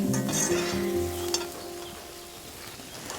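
Foraged wild mushrooms fry outdoors in a pan with a steady close sizzle, and stirring scrapes come through near the start. Tonal sounds in the background fade away.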